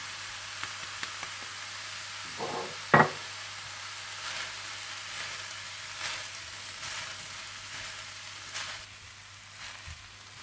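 Garlic rice with soy sauce, white pepper powder and green onion being tossed in a pan gives a faint, steady sizzle, broken by a few soft scraping and clattering knocks, one sharper clank near the start.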